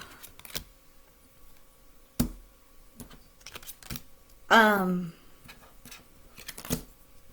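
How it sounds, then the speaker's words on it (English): Tarot cards are shuffled, handled and snapped in quick clicks and riffles, with a short voiced exclamation midway, close and fairly quiet. "You all just saw me shuffle these cards."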